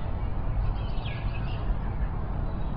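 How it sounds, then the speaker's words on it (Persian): A sparrow lets out a few faint, brief chirps in a short cluster over steady background noise outdoors. "پدر اون یه گنجشکه."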